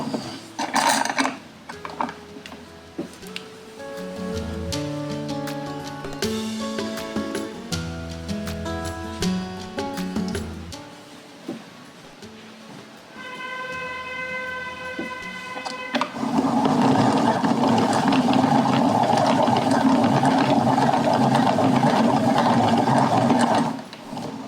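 A wool winder runs with a mechanical whirring and clicking, rough and uneven at first, then a steady louder whir toward the end, close and with no talking.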